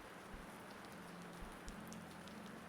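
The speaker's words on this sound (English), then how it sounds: "Grace lay listening to the rain" Steady rain patters softly on a surface through a quiet bedtime night, an even hiss with scattered faint drops and no voices.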